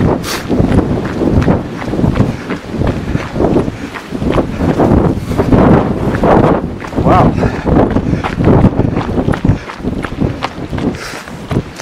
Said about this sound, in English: This wind is pretty severe.